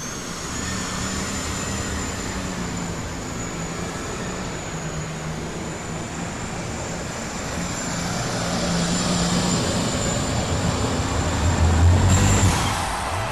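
A superstock pulling tractor roars steadily at full throttle through a pull at a farm machinery show finals, a loud, sustained engine drone with a high whine that swells near the end.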